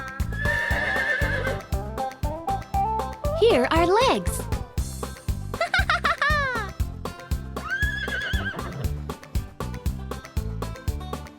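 A cartoon farm horse whinnies in a few rising and falling neighs over a bouncy rhythmic music track, with a narrator's voice speaking between the calls.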